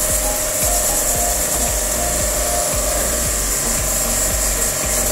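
Pressure washer spraying the front of an outdoor split AC condenser unit at reduced pressure, a loud, continuous hissing rush with a steady whine and a faint pulsing pump underneath, with no talking.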